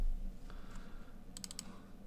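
Windows computer keyboard being typed on, a few soft keystrokes followed by a quick burst of four sharp clicks near the end, close and fairly quiet with no talking.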